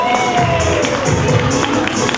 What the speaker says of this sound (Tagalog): For contestant number 1, palakpak po tayo. Palakasan po tayo ng palakpak.